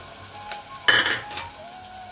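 A utensil scrapes and clinks against a pan while pigeon pea pods are mixed into an onion masala, with one louder metallic stirring burst amid a soft sizzle.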